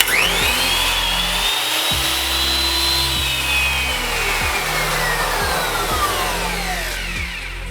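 A Ronix miter saw motor spins up and runs loudly and close, holding a steady whine with a brief dip early on, with no talk.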